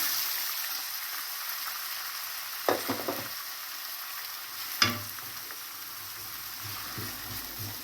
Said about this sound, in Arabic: غادي نشحر هاد البصله مع هاد الزويته مع دوك 2 معالق ديال الزبده